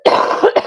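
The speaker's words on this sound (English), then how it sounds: "like I'm coughing now" A single close, sharp cough breaking into a few rough bursts, heard alone without any talking.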